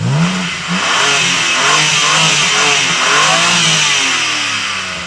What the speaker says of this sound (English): Now let's hear it from the exhaust.